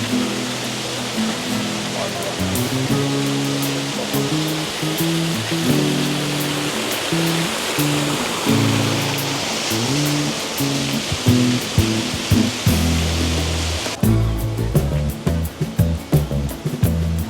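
A rainforest waterfall in Singapore gives a loud, continuous broadband rush that fills the whole stretch, with voices talking over it throughout.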